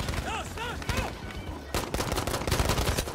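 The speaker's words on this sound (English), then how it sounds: "I'm, you know, using a lot of ammo shooting things that aren't the enemy" Pistol gunfire in the shooter game Battlefield 5, rapid loud shots cracking in quick succession over busy game noise, with voices heard in the mix.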